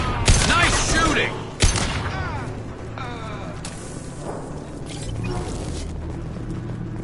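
Rapid bursts of video-game gunfire crack loudly near the start, with a sharp shot around the middle, then fade into a lower rumbling background as a voice talks over the action.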